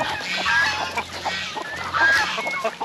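Free-range turkeys on a Philippine farm raised alongside chickens give nasal honking and gobbling calls, several overlapping cries close by over a continuous low background hum.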